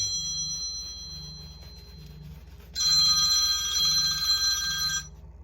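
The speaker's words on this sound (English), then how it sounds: "that way the phone won't just keep there, won't just keep on ringing and ringing and ringing" A telephone rings in a room: a low repeating buzz-like ring pulses steadily, then a bright, louder high-pitched ringing joins in for a couple of seconds before cutting off, with no talking.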